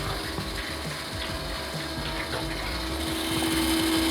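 Quantor MiniChilly 09 glycol chiller circulating coolant to a fermenter, a steady mechanical whir with a ratcheting, gear-like rattle and a continuous hum, close and unbroken throughout.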